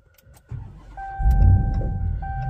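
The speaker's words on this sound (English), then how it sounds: "So we're gonna go to start the vehicle." A Ram TRX truck's engine cranks and fires up nearby, settling into a loud low rumble while an electronic chime tone sounds repeatedly inside the cab.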